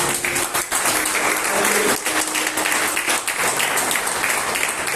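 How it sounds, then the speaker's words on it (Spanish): An evangelical church congregation bursts into loud, sustained applause, many hands clapping together in a dense, continuous wash that carries on for several seconds without speech. "¿Cuánto pueden dar un fuerte aplauso a eso?"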